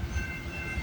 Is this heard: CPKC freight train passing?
yes